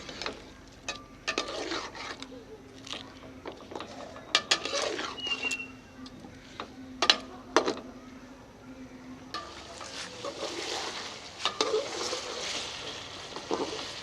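Fish pieces frying in masala in a karahi, a soft continuous sizzle with scattered clinks and scrapes of a spoon against the pan, fairly quiet, the sizzle swelling louder and brighter toward the end.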